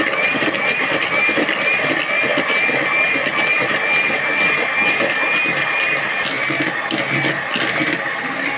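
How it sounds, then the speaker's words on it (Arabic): A hand-held electric mixer whirs steadily at high speed as it beats chocolate cake batter in a bowl, a loud, continuous mechanical drone with slight wavering and some clatter against the bowl near the end. "هنجيب المضرب هنضرب بقى كده كله مع بعضه"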